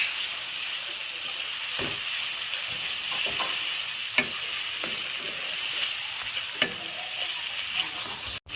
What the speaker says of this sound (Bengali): দেখুন মাছের তেল থেকে আস্তে আস্তে তেল বেরোচ্ছে, মাছের তেলটা অনেকটা ভাজা হয়ে গেছে